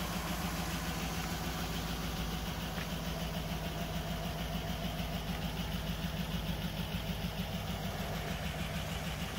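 A 2007 Cadillac Escalade engine idling after a starter replacement, a steady low mechanical hum with even pulsing, constant and fairly quiet, no talking.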